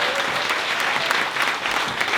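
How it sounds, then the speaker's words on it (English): Steady applause from a comedy club audience at a brewery gig in Gloucester fills the room, dense and continuous with no break, and a faint murmur of the crowd sits underneath. "if we could start the applause at the back of the room, bring it right the way through"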